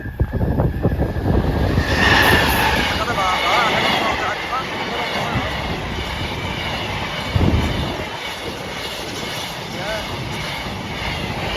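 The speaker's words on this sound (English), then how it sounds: "Freight train." Freight train rolling past the Botany Bay level crossing, a loud, steady rumble and clatter of wagons filling the whole stretch with a brief louder swell midway, people talking faintly nearby.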